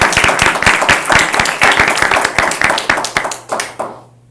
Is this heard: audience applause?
yes